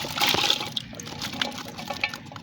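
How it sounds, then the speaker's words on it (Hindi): Half a glass of water is poured into a pan of potato and minced meat with ginger and garlic, a brief gushing splash fading into quiet sizzling pops. "आधा गिलास पानी शामिल करेंगे।"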